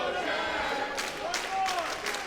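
Wrestling crowd in Fort Lauderdale cheering during a match, a steady roar with bursts of noise and whistles rising and falling over about two seconds.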